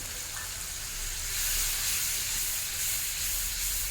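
A bowl of water is poured into a hot pan of well-cooked masala, producing a loud, continuous hissing steam sizzle that swells slightly midway and holds steady to the end. No one speaks.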